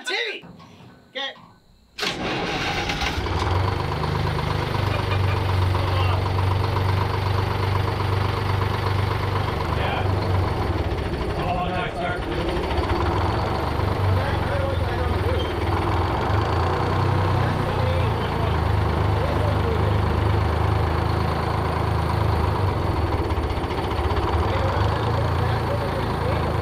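A 2-stroke Detroit Diesel engine, unrun for 20 years and fed old fuel, cranks and catches after a short start, then settles into a loud, steady, throbbing idle close by, with people talking faintly under it.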